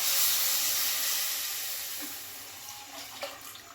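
A steady rushing hiss of water being poured into a pan of fish curry runs throughout, loud at first and easing slightly, with a few small splashes near the end.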